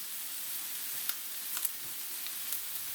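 Onions frying in a cast iron skillet, a quiet, even sizzle with a few sharp pops and crackles scattered across it.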